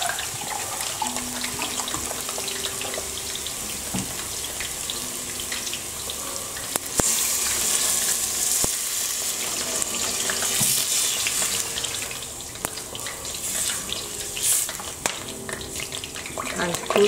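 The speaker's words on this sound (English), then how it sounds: "You can add 2 glasses water." Two glasses of water poured into a cooking pot for eggplant stew with cinnamon, a steady broadband splashing stream running the full length at close range, with clinks and small knocks along the way.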